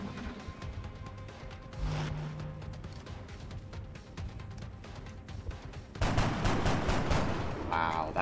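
Gunfire in the XCOM Long War video game as a soldier fires on an incoming alien, repeated sharp shots over a steady background, with a louder burst of firing near the end.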